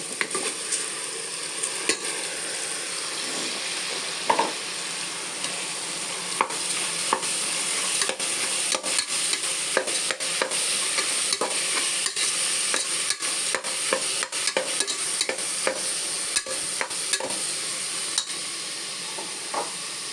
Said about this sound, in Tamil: இப்போ இது கூட அரிசி சேர்க்க போகிறோம்.